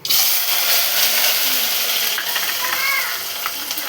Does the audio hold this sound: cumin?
yes